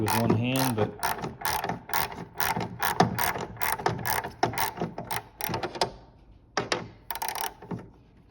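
Ratchet with a 10 mm socket working loose a Jeep taillight ball socket, heard as a long run of rapid, crisp clicks close by, thinning into a few separate clicks toward the end.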